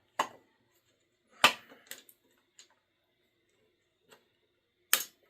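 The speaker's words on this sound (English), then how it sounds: "I'm going to have to cut the plastic ring that's holding the keys on" Scissors or cutters snipping through a plastic ring holding keys on a Kone elevator panel, a few sharp separate clicks and snaps with quiet gaps between, close and faint.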